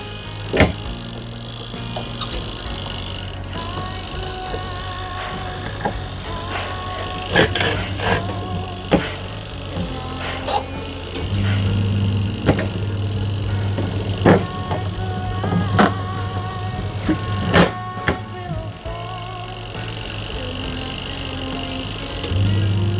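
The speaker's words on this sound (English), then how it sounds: "you can see here wash cycle is working" A small Nikai 2.5 kg washing machine runs its wash cycle with a steady low motor hum. Scattered clicks and knocks from the drum break through it, close by and with no talking.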